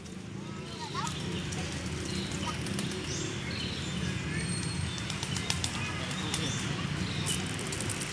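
Pigeons feeding outdoors, with bursts of flapping wings and scattered soft bird sounds over a busy, steady background, while people talk nearby.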